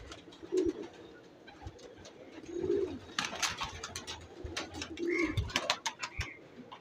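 Pigeons in a female pigeon loft coo in low, rolling bursts about every two seconds, over a background of faint bustle, scattered clicks and light rustling.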